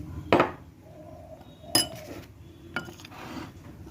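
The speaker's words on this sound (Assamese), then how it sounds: "এতিয়া অকণমান পানী দি মিলাই ল'ম।" Soybean curry with turmeric and a splash of water being stirred in a pot, giving a couple of sharp metallic clinks of the spoon against the pot and softer scraping in between.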